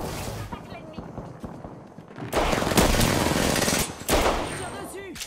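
Rapid automatic gunfire from Apex Legends fills the second half in loud, dense bursts after a quieter, rumbling opening, with a brief lull and then another volley near the end.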